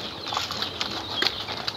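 Pigeons flap their wings in short, soft bursts at close range, with faint chirps over a steady background hiss.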